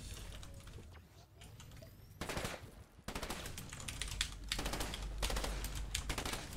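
Rapid machine gun bursts in a shooter video game, loud crackling volleys in several stretches separated by short pauses, with a steady low rumble underneath.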